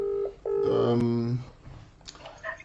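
Telephone dialing tones ring out during a call placed on a live broadcast: a short tone, a brief gap, then a longer tone sequence, loud and close, followed by faint background noise.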